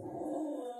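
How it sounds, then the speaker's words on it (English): A pet dog at home gives a brief, faint, drawn-out howl, a single soft wavering tone heard alone. "Can you hear that voice? That is our doggy."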